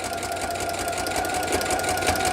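A sewing machine with a walking foot stitching fabric runs at a steady fast pace, a rapid even mechanical whir and tick, close and moderately quiet, with no talking.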